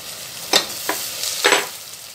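A two-inch piece of cinnamon, half a teaspoon of shahjeera, three cloves and four cardamom pods dropped into hot oil over softened browned onions bring a low sizzle, with three short clattering stirs standing out close by.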